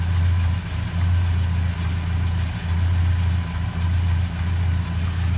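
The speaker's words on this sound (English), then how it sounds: "Wow, great sounding engine." A 1953 Ford F100 pickup with a stock 239 flathead V8 idles nearby, a low, steady rumble with a slightly uneven pulsing throb and a few mild swells in level, no voices.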